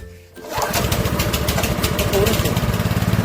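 A Honda GX160 small engine, fitted with a replacement carburetor, catches after a brief quiet moment and settles into a loud, rapid, evenly pulsing idle close by.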